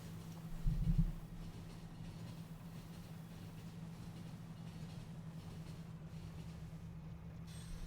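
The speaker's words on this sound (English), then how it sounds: "And we will drive our train to there." A train rolling along rails in the factory-building game Factorio, a low steady engine rumble with a brief louder swell near the start, then an even drone with no voices.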